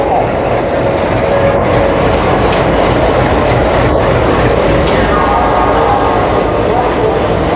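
Train noise aboard the Howrah–Rampurhat Express 12347, a loud steady rumble of the rolling coaches with faint rhythmic clatter and occasional metallic squeaks, continuous throughout.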